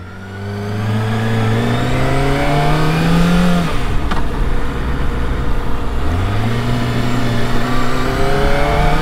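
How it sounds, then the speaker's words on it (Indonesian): A 2023 Kawasaki ZX25RR motorcycle engine revs high, then blips down sharply through the gears toward first as it slows to stop, a loud nearby whine dropping and rising again, with no talk. "ini saya mesti masuk 1 karena mau berhenti"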